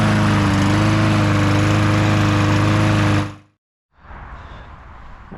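A loud, faulty lawn mower engine runs close by, then cuts out abruptly into silence before a quieter rumble returns; no clear surging rhythm.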